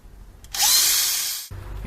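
A power drill with an extractor bit works on a neglected Peugeot 406 Coupé in a single burst of about one second, a loud high whir that starts sharply and stops abruptly against quiet surroundings.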